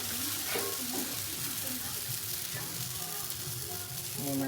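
Dosa batter poured thin onto a hot griddle at a roadside tiffin shop, sizzling steadily and loudly, with faint stirring and background voices low beneath the hiss.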